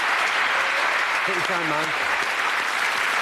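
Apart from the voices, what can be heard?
studio audience applause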